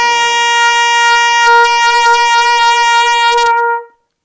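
A single sustained trumpet note, high C played open with no valves, held steadily for about four seconds, bright and loud, then cut off cleanly.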